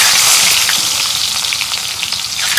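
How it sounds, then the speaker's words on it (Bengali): Chopped onions hit hot oil in a pan on a clay stove outdoors, giving a loud, dense, steady sizzle that holds throughout with light crackling on top. "তেল গরম হচ্ছে, দিয়ে দিব পেঁয়াজ কুচি"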